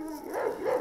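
Sasha, a female dog and daughter of Zaza, gives a couple of short, muffled barks or whimpering yips at close range, the second slightly louder than the first.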